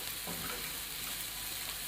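White cumin seeds roast in a pan, making a short, faint, continuous frying hiss with no voices.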